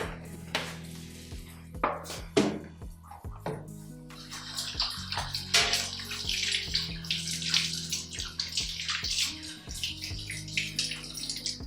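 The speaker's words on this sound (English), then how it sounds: "Wash your vegetables before you do any other thing, okay?" Vegetables being washed in a basin of water: steady splashing and sloshing with scattered clattering knocks of the produce and containers, close and fairly loud throughout.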